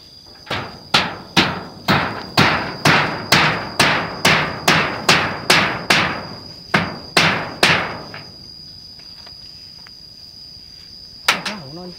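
Roughly fifteen sharp, evenly spaced hammer strikes ring out close and loud over about eight seconds, each with a bright metallic ring, then the pounding stops, leaving quiet room noise and a faint thump near the end.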